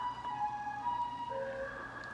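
A fire engine siren wailing outside, steady alternating tones at moderate distance, heard alone without talk.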